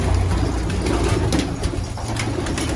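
Tumbler pigeons coo steadily in a low, continuous murmur, close by, with a faint flutter of wings now and then and no talk.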